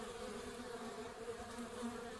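Honey bees buzz steadily around a beehive as foragers return carrying pollen, a dense continuous drone close by with no talk.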